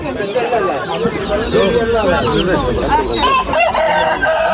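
Roosters at a poultry market crow in overlapping calls amid clucking fowl, close and loud, with people talking and bargaining throughout.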